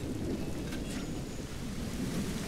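Pouring rain hisses steadily in The Bureau: XCOM Declassified video game, a dense wide wash of downpour with a faint low rumble of thunder underneath, no voices heard.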